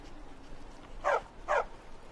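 Two short dog barks sound in a Skyrim VR game, about half a second apart and moderately loud over faint ambient background, with no talking.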